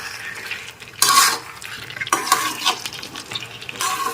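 Chili chicken is stirred in a hot pan with vinegar, giving scraping spatula strokes in short bursts over a quiet sizzle, with brief pauses between the strokes.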